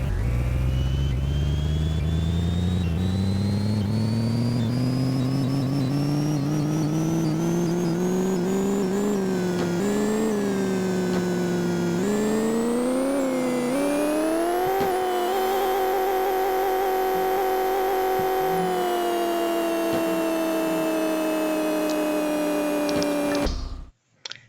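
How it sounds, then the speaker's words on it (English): A car engine in the mobile game Pixel Car Racer revs steadily upward on a dyno, its synthetic whine climbing in pitch through several gear-like steps before holding high and cutting off abruptly at the end. "I'll do a dyno and a drag race for you guys."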